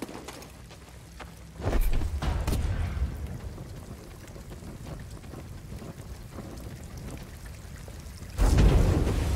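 Rain in the video game Star Wars Jedi: Fallen Order, a steady hiss of falling water, with louder gusty washes of wind and rain surging twice.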